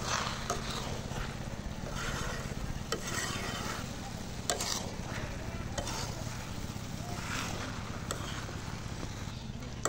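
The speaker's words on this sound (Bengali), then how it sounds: "ভালো করে নেড়ে চেড়ে দিলাম।" An egg dish is stirred in a cooking pan, with steady low scraping strokes over a continuous soft sizzle, close and fairly quiet, with no talk.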